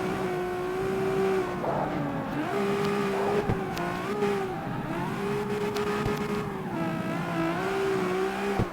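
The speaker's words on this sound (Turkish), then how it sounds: "Böyle drift yapabiliyoruz." A car in the CarX Street driving game drifts with a loud, steady engine drone that rises and dips as the revs change, with tire squeal throughout.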